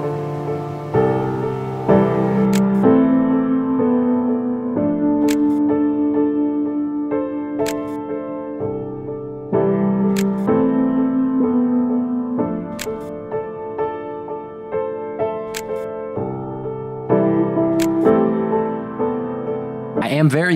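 A Leica M3 film camera's quiet shutter clicks in a library, a few soft sharp clicks spaced out over a long stretch beneath steady tonal background sound.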